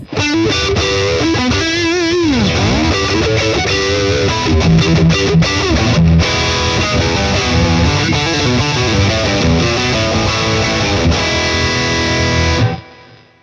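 Electric guitar played through the neck pickup with heavy distortion, a sustained loud riff with bends and chords running steadily before cutting off at the end.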